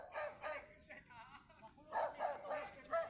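Dogs bark repeatedly at a hillside house in the mountains, the barks moderately distant and partly mixed with background noise and faint voices.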